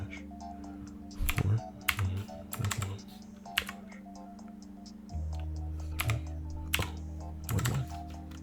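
Clicky computer keyboard typing in short bursts of rapid keystrokes, with pauses between them, over a steady electronic hum; no one speaks.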